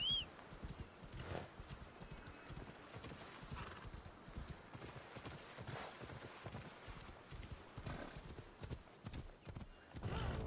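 Horse galloping in Assassin's Creed Odyssey, steady rhythmic hoofbeats with a brief whinny, close and clear over faint wind, no talking.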